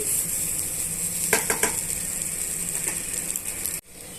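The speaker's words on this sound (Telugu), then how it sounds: "అన్నీ కూడా మిక్స్ చేసుకొని ఒక నిమిషం వేగ వేగనివ్వాలి" Okra (bhindi) fries in a pan with a steady bright sizzle, broken by a few quick clattering scrapes of stirring before the sound cuts off abruptly.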